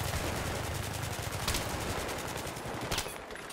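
Sustained automatic gunfire in Battlefield 3, a dense rapid stream of shots with a couple of sharper bursts standing out, loud and continuous for the whole stretch with no talking.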